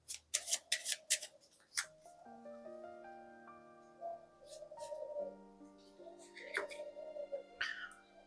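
Tarot cards shuffled and handled at a reading, with a few crisp card flicks at the start and more later, under a soft sustained musical tone.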